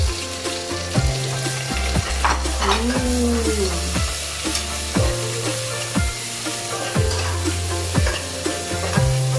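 Sliced onions fry and sizzle in a pan for egg biryani, with a steady hiss and a spoon scraping and stirring in regular strokes close by, with no voices.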